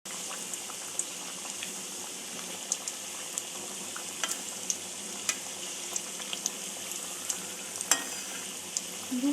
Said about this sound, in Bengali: দু পিঠ হালকা ব্রাউন করে ভেজে নেব।